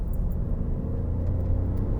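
Ford Focus with a 1-litre EcoBoost engine accelerating, heard as a steady low engine rumble and road noise from inside the car, continuous and fairly loud with no talking.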